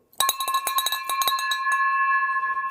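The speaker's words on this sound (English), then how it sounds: "we're going to ring this bell for them" A ringing metal bell struck in a rapid burst of about a dozen strokes to celebrate a closed real estate wholesale deal, each hit bright and close, then left to sustain in a long, shimmering decay.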